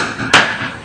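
A single sharp hammer strike lands partway through during wall plaster repair, a loud close crack standing alone over a low room hum.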